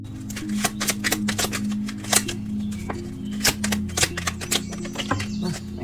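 Tarot cards being shuffled by hand, a rapid run of crisp, close riffling snaps and flicks in irregular bursts over a steady low background hum.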